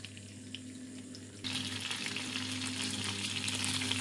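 Food frying in hot oil in a pan for broccoli pasta, a steady close sizzle that jumps noticeably louder partway through and then holds, with a low hum running underneath.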